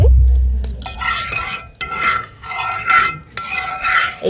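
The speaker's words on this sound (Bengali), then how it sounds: "জালটাকে মিডিয়ামে রেখে কিন্তু চিনিটাকে ক্যারামেল তৈরি করতে হবে" Sugar caramelizing in a steel bowl over medium heat, stirred in rhythmic scraping strokes that rise and fall about once a second, close and fairly loud, with a brief low thump at the start.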